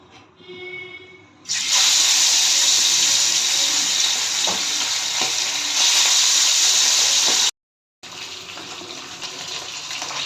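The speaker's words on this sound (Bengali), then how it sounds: "দেখুন তেলটা গরম হয়ে গেছে। এবার আমি এতে মাছটা ছেড়ে দেবো আস্তে আস্তে।" Pabda fish slid into hot mustard oil sets off a sudden loud, close sizzle after a quiet start, a dense crackling hiss that continues steadily, broken by one short gap before resuming.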